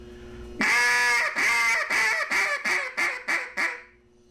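Vintage duck call blown deep with a closed hand to imitate an old hen mallard: a loud, close sequence of about eight descending quacks, long at first, then shorter and quicker, played alone.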